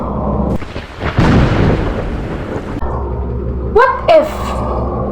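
Heavy rumbling thunder with rain-like hiss rolls through a typhoon storm, swelling loud and close in the first seconds, then easing into a steady low roar with a couple of sharper tonal bursts near the end.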